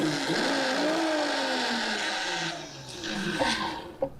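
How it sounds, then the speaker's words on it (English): A large kitchen blender whirs steadily while preparing beef tenderloin skewers, a loud continuous motor drone with shifting pitch that drops away toward the end, leaving a few faint clatters. "Got the big blender out for this one."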